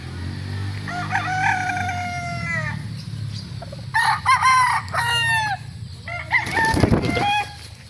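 SBR gamecock crowing repeatedly nearby, long drawn-out crows mixed with clucks from other fowl in the background.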